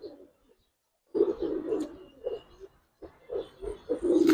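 A female pigeon coos in soft, low, repeated throaty phrases close by, with short pauses between calls.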